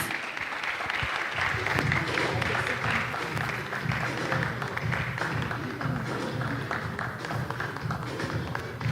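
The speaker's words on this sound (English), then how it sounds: "Let's give him a round of applause." An audience at an African readers conference applauds steadily for several seconds, with a dense, sustained clapping from a crowd in an indoor hall.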